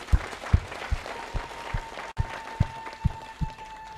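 An audience claps for the country's bishops in a church gathering, with steady, fairly slow, distinct claps across the crowd and a faint sustained tone beneath them.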